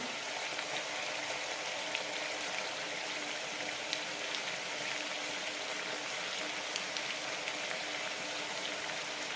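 Sambar made with bitter gourd boils in a pot, a constant dense bubbling hiss with tiny irregular pops. It stays even and close throughout, with no voices.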